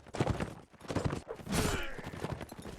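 Horse hooves clip-clop in a video game as a player rides a saddle horse through a cavalry skirmish, the steps quick and uneven within a dense mix of other game sounds.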